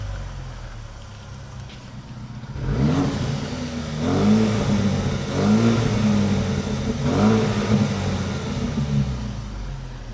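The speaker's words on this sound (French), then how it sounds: "Ah, il y a un limiteur à l'arrêt." A stationary Mazda MX-5 engine revved hard into the rev limiter, quiet at first, then repeated loud bursts that bounce off the limiter in a stuttering rhythm, close by with no talk.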